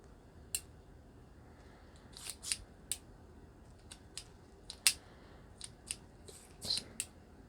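Metallic clicks and light rattles from handling a Western-style revolver chambered in .45 or .38 and working its ejector rod, with a dozen or so sharp, close ticks scattered unevenly over a quiet background.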